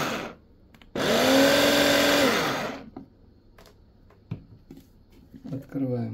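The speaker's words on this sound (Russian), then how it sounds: "Положили в измельчитель и измельчили на 2 скоростях" Electric food chopper grinding boiled mushrooms, a loud whirring burst lasting about two seconds with a falling motor pitch as it runs down, followed by quiet clicks and handling noises.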